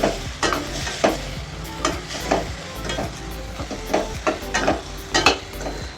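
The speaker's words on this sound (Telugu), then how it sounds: "ధనియాల పౌడర్ జీలకర్ర పౌడర్ కొంచెం కొంచెం వేసి ఒక్కసారి మంచిగా కలిపి" Ridge gourd and moong dal curry with fenugreek leaves being stirred in the pan after coriander and cumin powder go in. A spoon scrapes and knocks in an uneven rhythm over a low, close sizzle.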